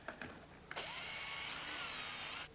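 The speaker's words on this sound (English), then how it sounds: "I need to drill this through all the way" A power drill bores a hole during a boys' soccer-themed bedroom makeover: a few quick taps, then a loud, close, steady high whine that runs unbroken for nearly two seconds before stopping abruptly. No one speaks.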